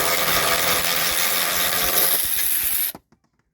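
A ratcheting wrench clicks on a stab link during sway bar work on a 2012 Hyundai Accent. The loud, dense, continuous rattle runs close and steady for about three seconds, then stops abruptly, leaving a few faint knocks.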